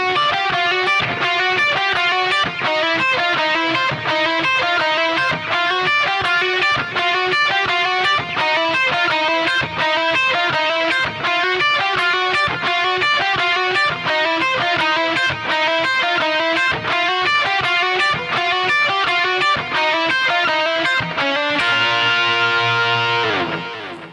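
Distorted electric guitar plays a song section, a steady, driving run of outlined chords starting on D, loud and continuous with no talking, ending on a sustained ringing chord.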